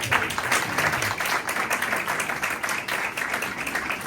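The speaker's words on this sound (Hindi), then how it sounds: "एक बार फिर जोरदार ताली।" Loud, dense applause fills a worship gathering, many hands clapping continuously and close by with no clear speech over it.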